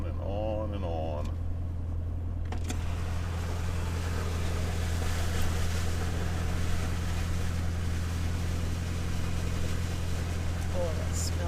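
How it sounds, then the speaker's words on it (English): A 4x4 drives through stinky mud puddles on a remote overland track, with a steady loud engine drone and constant rushing, sloshing noise. Voices talk briefly at the start. "what is those puddles we're driving through? Yucky, stinky mud."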